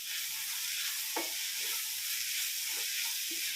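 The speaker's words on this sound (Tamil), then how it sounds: "புதினா ஆட் பண்ணி மிக்ஸ் பண்ணிடலாம்." Mutton keema gravy sizzles steadily in a pan as mint is stirred in, a constant hiss of frying broken by a few soft scraping stirs, fairly quiet and with no talking.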